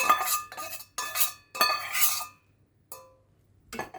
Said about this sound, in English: Now keep mixing it until it turned all to chocolate